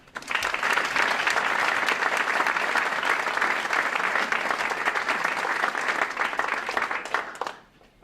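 Sustained audience applause at a rural engagement kick-off event welcoming Becky Skillman, loud and steady for about seven seconds before tapering off abruptly at the end.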